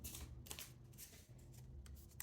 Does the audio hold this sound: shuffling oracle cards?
yes